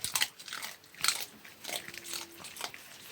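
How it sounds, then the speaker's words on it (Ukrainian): A dog gnaws and crunches food up close, giving irregular bursts of biting and chewing over about three seconds. "Десь гризе."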